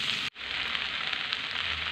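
Cauliflower and beans fry in a pan for fried rice, giving a steady close hiss of sizzling oil, broken once by a brief moment of silence near the start before the frying carries on evenly.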